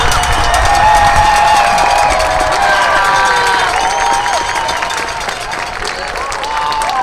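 A large audience at a marching band invitational claps and cheers loudly and continuously in a big open venue, with whoops and shouts mixed into the sustained applause.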